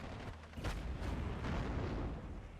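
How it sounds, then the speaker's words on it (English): A Spitfire bombing run in the WWII strategy game Steel Division 44: dull, rumbling explosions and booming blasts swell and overlap across the stretch, a dense roar of impacts at moderate loudness with no voices. "Spitfire comes in, takes another Pack 38. Another good bombing run."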